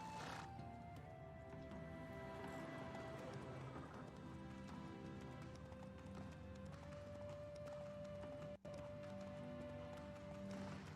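Roach the horse trotting in The Witcher video game, faint hoof clip-clops in a steady rhythm beneath a sustained droning tone and a low ambient bed, with no clear talking.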